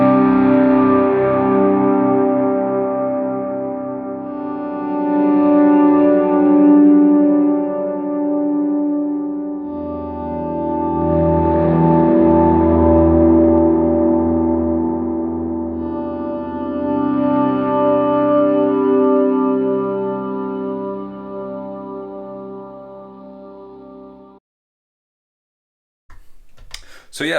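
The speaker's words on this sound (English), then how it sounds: "with both delays on, and I usually put a little bit of drive on it too" An electric guitar runs through two delay pedals with a touch of overdrive, chords swelling in slowly and trailing long echoing repeats that wash and fade in waves before cutting off near the end.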